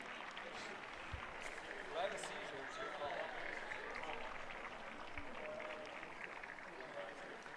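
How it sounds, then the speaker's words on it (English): Faint, diffuse clapping from baseball spectators far off across the ballpark at a Hornell Steamers vs. Olean Oilers summer-league game, a steady soft patter over several seconds with low crowd murmur. "when you hear clapping from a distance like there"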